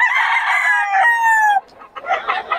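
Roosters crowing at a chicken market in Bocaue, a loud, close drawn-out crow with a rising then falling tone, followed by a shorter burst of clucking and crowing from other birds.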